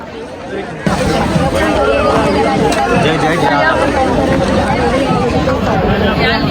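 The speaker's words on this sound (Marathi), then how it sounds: "लय बेकार गर्दी" A packed crowd at a temple fair during a palanquin procession fills the air with loud, constant babble of many voices up close, swelling suddenly after the first second and holding steady.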